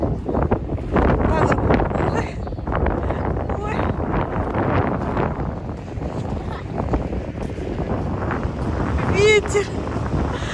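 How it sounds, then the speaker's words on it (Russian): Steady cold winter wind buffeting the microphone outdoors in Pyatigorsk near the city Christmas tree, with people talking underneath throughout. "Ветер, холодно."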